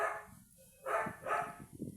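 A dog barks a few times at a distance, sharp yaps spaced across two seconds in an otherwise quiet room, faint and brief.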